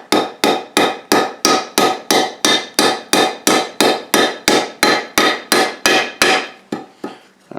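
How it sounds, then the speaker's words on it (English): A hammer strikes a metal wedge into a double bit axe head in a steady rapid series of about twenty sharp, loud blows, each ringing briefly before the next. "And then we're just going to go ahead and hammer it on down in there."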